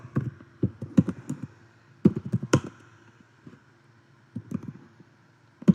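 Keys clatter on a computer keyboard as a line of C++ code is typed, in quick close bursts of taps separated by short pauses, with no talking.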